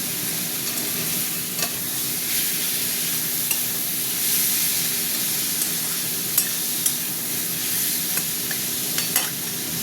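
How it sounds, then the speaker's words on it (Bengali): Turmeric and chili powder with a little salt frying in oil in a pan for a fish curry, a steady soft sizzle with occasional stirring scrapes and crackles. "ভাজা ভাজা হবে"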